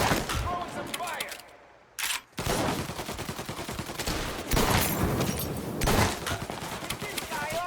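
Gunfire rattles through a shootout in the video game Mafia Definitive Edition, with dense bursts of shots and a brief lull, while voices call out over the fighting.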